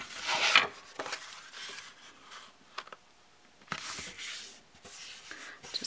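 Red cardstock for a Christmas card is folded and creased by hand, giving soft scattered papery rubs and crinkles, close and quiet, with brief brushing bursts separated by pauses.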